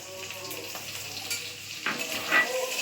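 Chopped garlic sizzling in hot oil in a kadai while it is stirred, with a steady close frying hiss and a few scraping strokes of the spatulas, without talking.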